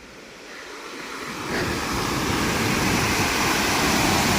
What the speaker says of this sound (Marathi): हे जे चार दरवाजे आहेत धरणाचे या ठिकाणाहून पाण्याचा विसर्ग केला जातो